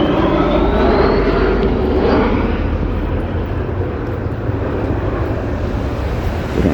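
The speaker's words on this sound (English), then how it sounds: "They don't usually land the planes over Woodside during the week" A low-flying airplane on landing approach over Woodside roars loudly and steadily overhead throughout, with a faint rising whine early on and some wind noise.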